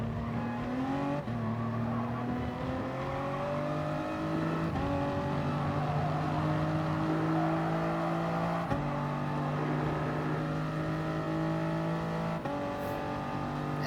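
Toyota GR Supra Gr.3 race cars lapping Interlagos in Gran Turismo, engines droning and rising in pitch through the gears in a steady, continuous whine as the pack runs close together, with no voices.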